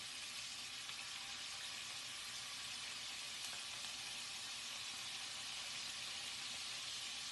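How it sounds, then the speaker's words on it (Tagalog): Marinated chicken fries in hot cooking oil at home, a steady, even sizzle and crackle that stays faint but constant throughout with no voices. "Pag mainit na yung mantika, saka natin ilagay yung chicken"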